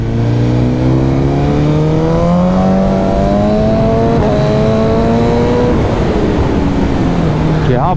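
A BMW S1000RR or Honda CBR1000RR superbike screams loud and close during a drag race on an expressway, its engine note climbing steadily in pitch through a long pull before a brief drop and another rise.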